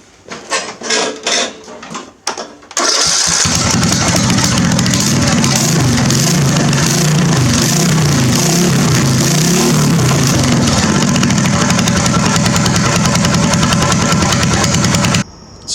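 A modified lawn mower engine with double pulley swap and exhaust fitted starts from cold after a few brief pulls and clatters, then settles into a loud, steady, uneven idle that runs on without talk.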